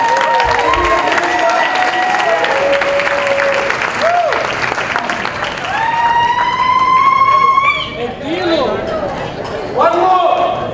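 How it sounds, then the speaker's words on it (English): Wedding reception guests clap together in a steady, loud burst of applause, mixed with crowd chatter and a few cheers, with talk and music-like tones running through the room. "Then give them a big applause."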